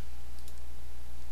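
Steady clicking of keys on a restaurant point-of-sale keyboard while entering a name, a brief dense burst of taps, close and loud with continuous background hiss.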